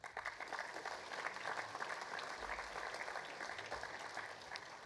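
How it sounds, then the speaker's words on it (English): Audience applause fills a school assembly hall, a steady dense wash of many hands clapping at moderate volume, sustained evenly throughout with no voices over it. "I think they deserve a round of applause now"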